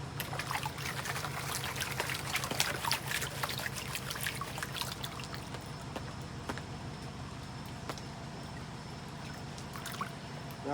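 Water trickles and sloshes steadily as sand and gravel are washed in a Garrett Super Sluice gold pan at a gold mine, a soft, continuous splashing close by with occasional light clicks of stones.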